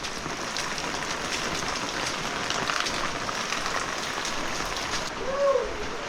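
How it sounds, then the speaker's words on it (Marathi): Heavy monsoon rain pours steadily over a Konkan village house, a dense continuous hiss throughout, with a faint bird-like call near the end. "भयंकर पाऊस नाही काय आलाय नुसता पावसाचा"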